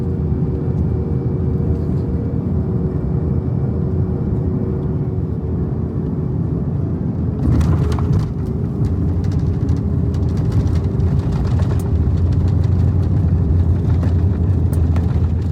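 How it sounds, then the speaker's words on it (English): Inside a COMAC C919 airliner landing in Wuhan, a loud, constant cabin roar and rumble carries on, with rattling and jolts arriving about halfway through as the aircraft touches down and rolls out, without speech. "time for our first ever landing on the C919"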